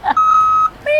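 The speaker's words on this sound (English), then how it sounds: "Beep." A loud, clear electronic beep held for about half a second, bracketed by brief tonal chirps at the start and end.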